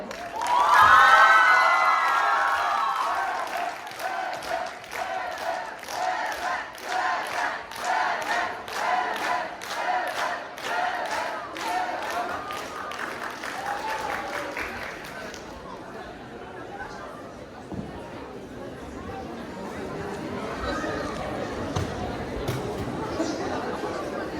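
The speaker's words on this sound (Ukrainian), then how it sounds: "Тож зустрічайте їх аплодисментами." An audience at a first-year student arts festival claps and cheers for student performers. The applause is steady and fairly loud for about fifteen seconds, a voice rises over its start, and then it fades to a murmuring hall.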